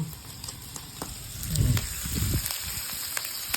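Steady sizzling of pork on a hot electric grill pan, a close crackling hiss with small pops throughout.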